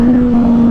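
Yamaha FZ-09 motorcycle engine pulling hard in standard mode after the clutch is let out, a loud steady drone held for under a second.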